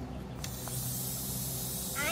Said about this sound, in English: I hear gas, and I hear gas bubbles.